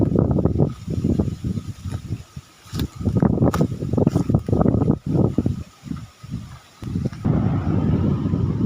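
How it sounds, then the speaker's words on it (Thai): Strong wind buffets an open outdoor spot by water during a storm, roaring in heavy gusts with brief lulls, loud and close against the microphone. "ลมแรงมากเลยนะครับ"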